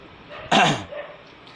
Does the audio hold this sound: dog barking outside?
yes